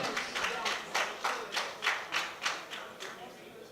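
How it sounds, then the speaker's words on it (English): Applause from a crowd with rhythmic clapping, a steady beat of claps running throughout, with a voice faintly under it. "Give her a big round of applause."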